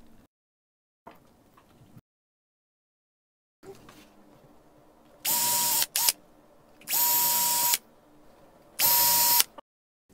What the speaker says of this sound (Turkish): İlk olarak tahta parçasına delikler açıyorum.